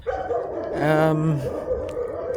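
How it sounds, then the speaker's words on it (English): A dog gives a drawn-out, whiny howl-like vocalization outdoors in the morning, near and fairly loud over a steady background hum, lasting about a second. "Dogs are chatting to us this morning."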